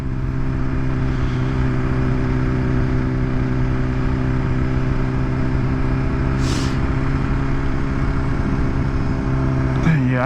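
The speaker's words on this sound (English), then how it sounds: "This is the stock exhaust, y'all, and it sounds good." Stock exhaust of a BMW S1000RR superbike revving steadily up close, a strong continuous engine drone with harmonic layers and a sharp rev burst near the end.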